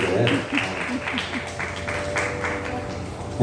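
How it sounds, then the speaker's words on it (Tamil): Audience clapping for the accompanying musicians at a Hindu temple Mandalabishegam celebration, sustained applause from a gathered crowd while a voice keeps speaking over it. "நல்லா கைத்தட்டு."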